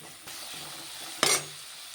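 Two finely chopped onions fry and sizzle steadily in hot oil, with a sharp clink of a utensil against the pan partway through; no one speaks.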